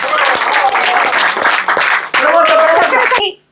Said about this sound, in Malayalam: നല്ല കൈയടി കൊടുക്കാം